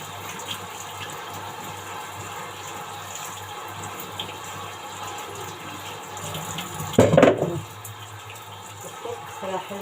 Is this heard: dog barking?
no